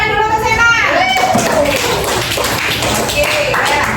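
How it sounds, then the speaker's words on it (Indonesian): A classroom of children clapping for a classmate, a burst of light, rapid overlapping claps beneath children's voices and chatter, close and fairly loud. "tepuk tangan dulu untuk Sena"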